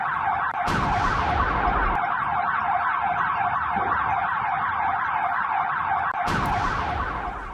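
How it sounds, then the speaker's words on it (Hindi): A loud air-raid siren wails steadily over a city in wartime Ukraine, its pitch rising and falling in repeated cycles, with nothing else heard over it. "सायरन की आवाज आप सुन सकते हैं"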